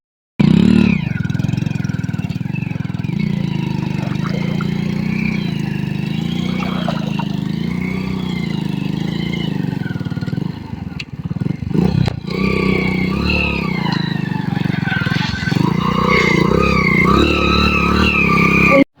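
An old 1999-model motorcycle revs hard while pushing through deep water off-road, its engine droning loudly and continuously with rising and falling pitch and a brief dip near the middle.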